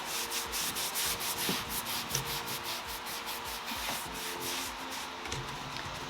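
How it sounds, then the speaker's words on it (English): Steady close rubbing and scrubbing of wax being worked by hand onto painted white furniture, continuous and fairly quiet, with faint rhythmic strokes throughout. "Let's wax this."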